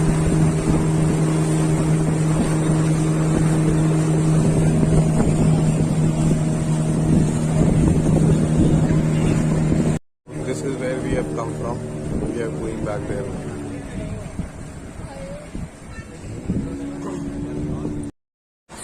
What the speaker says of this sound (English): This is a fisherman's boat and we are going in the deep waters for the fishing.